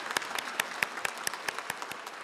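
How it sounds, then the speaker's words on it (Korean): Members of a church congregation clap during a service, a short run of sparse, fairly rhythmic handclaps with distinct individual claps standing out, moderately close in a reverberant room. "우리 감사와 축복의 박수 함께 보내셨으면 좋겠습니다"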